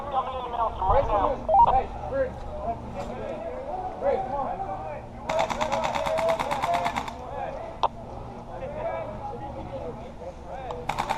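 Airsoft gunfire during a large outdoor team game near a bridge: sporadic bursts of rapid shots, a sustained burst in the middle and one sharp single crack, heard among players' voices.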